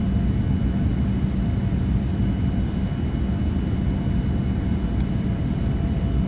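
An airliner taking off in the Prepar3D flight simulator makes a steady, loud, deep engine roar with constant rumble throughout, with no voices.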